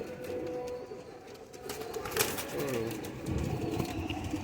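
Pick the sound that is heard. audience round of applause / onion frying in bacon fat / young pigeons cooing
young pigeons cooing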